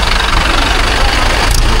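A tractor engine runs loud and close with a dense, continuous rumbling drone and no breaks.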